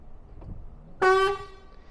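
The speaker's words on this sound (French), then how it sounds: "le klaxon qui se trouve sur le côté" A single loud truck horn blast with a steady harmonic tone, about a third of a second long, rising sharply out of quiet background noise.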